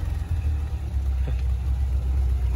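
A stock, non-turbo UAZ engine runs off-road, giving a low, steady rumble with slight surges, heard fairly close for a couple of seconds without talk.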